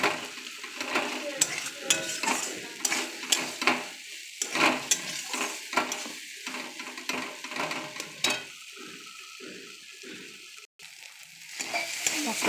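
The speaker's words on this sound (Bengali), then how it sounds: "মশলাটা ভাজা হয়ে গেছে আমার" Masala frying in a pan for a mustard-and-onion fish curry: a steady sizzle with repeated scraping and clicking from stirring, close and continuous, with no voices.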